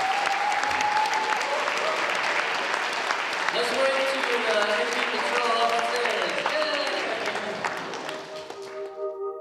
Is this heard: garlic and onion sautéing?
no